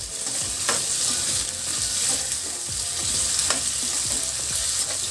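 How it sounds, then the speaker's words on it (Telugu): Field bean masala curry fries in a pan, a steady close sizzle with repeated stirring scrapes throughout. "బాగా వేయించుకోవాలండి"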